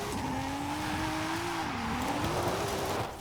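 A Forza Horizon 5 car engine drones steadily as it heads down a mountain road, its pitch wavering up and down with throttle while tires hiss and squeal underneath, loud and continuous for a few seconds.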